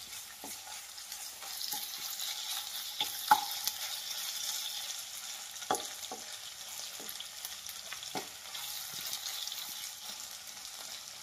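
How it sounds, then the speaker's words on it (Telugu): Ginger garlic paste fries gently in a pan for a brinjal tomato curry: a steady, soft sizzle with a few sharp spoon clicks and scrapes scattered throughout, close up and with no talking. "ఇప్పుడు అల్లం వెల్లుల్లి పేస్ట్ పచ్చివాసన పోయిన దాకా కొంచెం మగ్గనిద్దాం"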